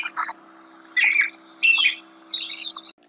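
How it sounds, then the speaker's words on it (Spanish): Small birds give several bursts of sharp, scratchy chirps in quick clusters, close and fairly loud, with a low steady hum underneath. "vamos a escuchar cómo suenan esos pajaritos"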